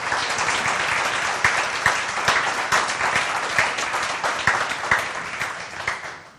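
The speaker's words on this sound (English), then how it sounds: "So can we have a big round of applause for Vicky and Caroline?" A conference crowd at the Love Inbound 2019 event gives a sustained round of applause to thank the event staff. Many hands clap in a dense wash, with sharper individual claps standing out, before the sound tapers off at the end.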